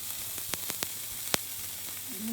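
Cookie dough sizzles in a heavy covered frying pan on a gas stove, a soft steady hiss punctuated by a few sharp crackles and pops.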